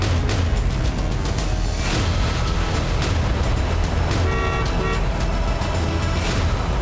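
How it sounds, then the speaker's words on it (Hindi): A car approaching along a remote, deserted roadside in north-east India, heard as a steady, loud engine and road rumble throughout, with a brief horn toot partway through. "एक गाड़ी की आवाज सुनकर हमने राहत की सांस ली।"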